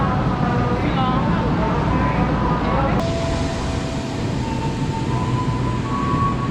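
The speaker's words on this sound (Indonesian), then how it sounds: "Sudah jalan kereta apinya" KRL commuter train moving at a station, a steady loud rumble with rising motor whine tones throughout and a sharp click partway, busy station noise around it.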